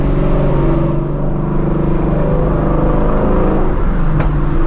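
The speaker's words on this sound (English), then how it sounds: "This thing is backfiring today, y'all" A Shelby GT350 accelerates hard, its engine a loud, steady, close roar throughout, with one sharp backfire pop cracking out near the end.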